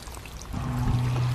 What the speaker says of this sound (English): Let's just give them some water.